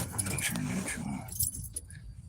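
Keys jangle close by as the ignition key is turned in a car with a turbo B20 engine and swapped EG wiring, a short metallic rattle under a man's speech.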